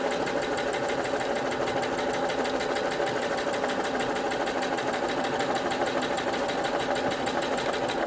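A sewing machine running steadily along a straight-stitch side seam on a drawstring bag, a fast, even mechanical whirring hum with rapid needle ticks, close and continuous without pause.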